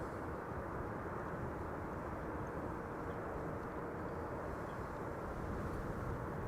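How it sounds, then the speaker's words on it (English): A KLM Embraer 195 E2 arriving from Stockholm gives off a constant broadband jet rumble, a dense, even roar that holds at steady loudness with no voices over it. "KLM flight 1216, first to arrive from Stockholm. E2 Embraer 195"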